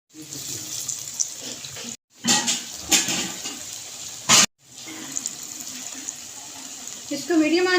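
Aloo palak sharley, potato and spinach snacks, sizzle as they fry in hot oil over medium heat, a steady close hiss interrupted by brief pauses and crackles as pieces are added.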